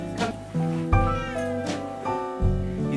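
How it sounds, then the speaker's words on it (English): A cat meows repeatedly indoors in its room, several drawn-out tonal cries close to the listener, with bumps and handling noise between them. "This is my cat's room, and he's right over here."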